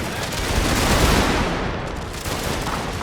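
Grenadiers fire musket volleys in a Prussian strategy video game, a dense, continuous crackle of many overlapping shots that swells and then slowly eases, loud and close, with no voices.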